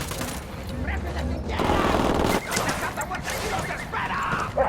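Gunfire in the tactical shooter Ghost Recon Wildlands, bursts of automatic rifle shots mixed with game effects and clatter, while a voice talks over the action.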